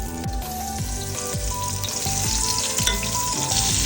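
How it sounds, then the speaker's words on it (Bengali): Chicken pieces fry in hot oil with a loud, continuous bubbling sizzle, close and dense, over a repeating background melody, with no talk. "ঝরাই নিয়ে এখন এটা আমি তেলের মধ্যে দিয়ে দেবো, তেলের মধ্যে দিয়ে দেবো।"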